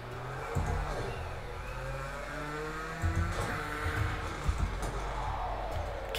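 A rallycross car engine in a racing video game drones and revs through gear changes, with brief throttle blips and a slightly distant, continuous roar, no talking.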